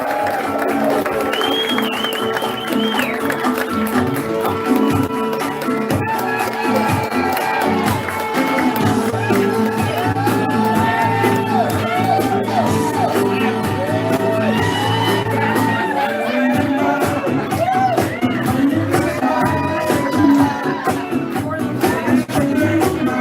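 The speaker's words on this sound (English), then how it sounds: "Big round of applause for the man," A lively comedy-club crowd cheers, whoops and applauds for comedian Charlie Wiener, a dense, loud, sustained roar of shouts and clapping filling the room, with scattered individual yells rising above it.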